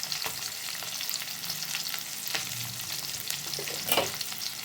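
Onion, garlic and ginger sautéing in a pan for a ridge gourd peel chutney, a gentle, steady sizzle with stirring scrapes and one brief louder clatter near the end.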